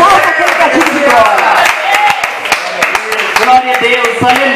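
A church congregation at a Deus é Amor service claps in quick, uneven rhythm, the palms steady and near, under a loud voice speaking throughout.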